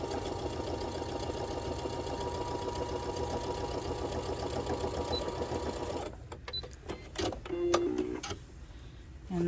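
A sewing machine stitches straight across a kangaroo apron pocket, a steady close mechanical whirr for about six seconds, then stops, leaving a few clicks and handling knocks before a brief restart at the end.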